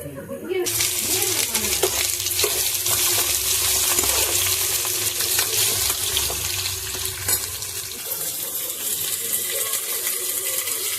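Steady sizzling of onions frying in a pan for potato kurma, a continuous hiss with faint stirring clinks, close and fairly loud throughout.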